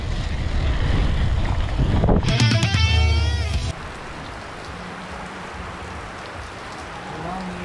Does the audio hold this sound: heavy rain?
yes